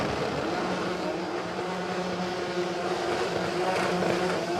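A drag race car roars at the Brisbane Jamboree, a loud, sustained engine note filling the air with steady harmonic drone and broad noise, no speech over it.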